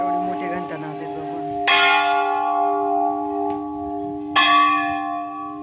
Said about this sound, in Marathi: केवढे मोठे घंटा नावते बाबा